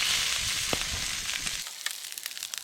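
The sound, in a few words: fish fritter balls frying in a hot pan over fire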